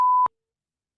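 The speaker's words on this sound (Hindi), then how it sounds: "लेकिन रिंगिंग हो रही है। और अब होने शुरू हो गई ये देख लें।" A phone call ringback tone: one short, clean electronic beep that cuts off abruptly and is followed by silence, with no talk.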